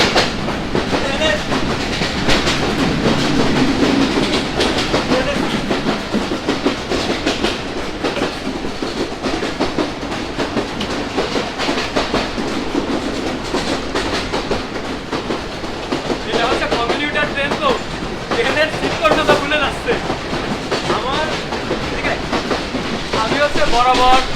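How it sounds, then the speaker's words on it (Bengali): Nakshikatha commuter train running from Khulna to Dhaka near Jashore, a continuous rattling rumble with rhythmic clatter throughout, with voices talking over it at times. "ট্রেনটি যাত্রা বিরতি করবে পরবর্তী স্টেশন যশোর"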